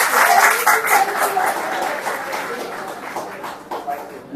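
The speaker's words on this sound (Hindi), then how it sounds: "तालियां हो जाए एक बार।" An audience at a poetry recital breaks into loud, sustained applause, many hands clapping together close by before it gradually thins out.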